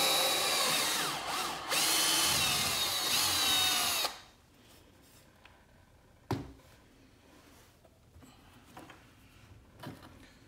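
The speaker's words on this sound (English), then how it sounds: "now I'm going to drill the retention hole" A power drill whirs loudly and steadily for about four seconds while drilling a retention hole in a welder grounding clamp extension, then stops, followed by quiet workshop clatter and a few sharp knocks.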